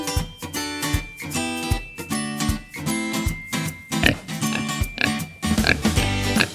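Pig oinks and grunts repeat in a steady rhythm, loud and close, layered over a busy tonal backing.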